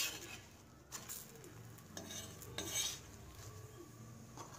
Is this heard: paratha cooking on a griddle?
yes